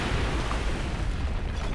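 A dense, rumbling bridge explosion in Call of Duty: United Offensive, with heavy low-end roar and crackling debris, continuous and loud throughout with no pauses.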